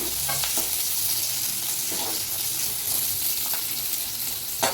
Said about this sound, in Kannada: ನಂತರ ಶುಂಠಿ, ಬೆಳ್ಳುಳ್ಳಿ, ಒಂದು 1 ಮಿನಿಟ್ ಫ್ರೈ ಮಾಡಿ.